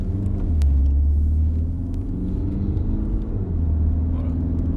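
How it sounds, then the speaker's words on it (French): Peugeot 3008 GT-Line SUV from 2019, pulling away from a standstill in sport mode, gives a loud, steady low engine rumble that swells with a brief dip midway, close up with no talk. "là on s'est mis en mode sport pour montrer un peu c'est quoi l'accélération au départ"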